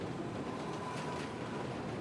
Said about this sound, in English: That drawback emerged when the first subway train crossed.